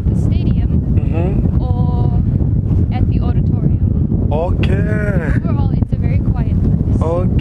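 Strong wind gusts in a cold, windy town in Africa buffet the microphone, making a constant heavy roar and rumble throughout, while voices talk over it.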